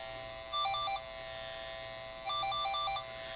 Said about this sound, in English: emits that tone to know that that's the cable I'm looking for